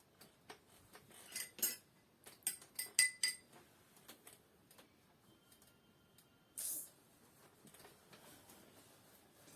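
A spoon clinking against dishes, a quiet scatter of sharp metallic taps and chinks at irregular intervals, with a brief louder scrape near the end.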